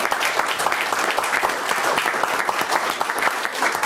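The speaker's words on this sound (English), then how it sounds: "we'll give you another round of applause" Sustained applause fills a city council chamber, a dense steady clatter of many hands clapping at close range for the whole stretch without a break.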